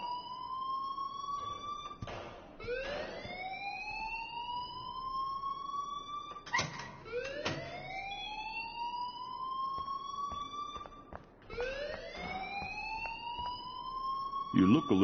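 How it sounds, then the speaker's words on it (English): An alarm blares in the game Life is Strange, its rising wailing siren tones repeating roughly every four to five seconds, steady and moderately loud beneath voices talking. "please turn off that alarm since that's your job"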